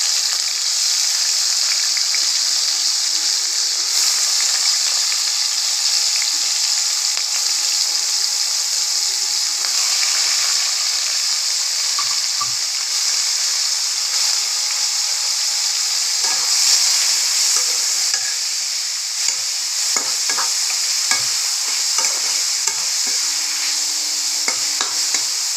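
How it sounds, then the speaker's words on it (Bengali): Chopped onion and tomato hit hot oil in a wok for capsicum chicken curry, giving a loud, steady frying sizzle that hisses throughout with occasional stirring scrapes and no talking. "কড়াই তেল গরম হয়ে গেছে, এবার পেঁয়াজ কুচি আর টমেটো কুচিটা দিয়ে দেবো।"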